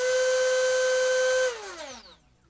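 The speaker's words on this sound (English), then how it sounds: "It's an outrunner motor in there." A small brushless outrunner electric motor in a DeeRC 2104 RC car whines at a steady high pitch for about a second and a half, then winds down with a falling tone to near silence.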